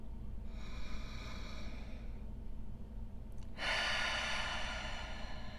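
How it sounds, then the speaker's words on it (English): Slow, deep diaphragm breathing: a long, soft inhale followed by a pause, then a louder, breathy exhale, heard close up with no talking over a low background hum. "you're going to take a deep breath into your diaphragm and then exhale out"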